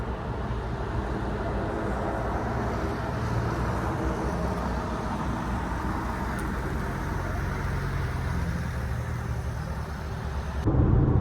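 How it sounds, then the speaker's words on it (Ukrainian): Cabin noise inside a Renault Koleos 2.0 dCi with a manual gearbox and 4x4 on a test drive, with about 159,000 km on it: a steady low engine and road rumble throughout that swells slightly louder at the end. "А зараз робимо невеличкий тест-драйв."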